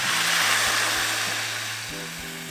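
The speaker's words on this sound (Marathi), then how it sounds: "आपण त्यात ताक टाकूया।" Buttermilk poured into a hot tempering with asafoetida for Maharashtrian kadhi, giving a loud rushing hiss that slowly fades as the liquid settles, under a faint low hum.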